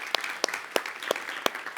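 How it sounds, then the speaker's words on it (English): A few scattered, sparse claps from a small audience at a motivational talk, about five separate hand claps spaced irregularly, faint and distant. "you can clap that up."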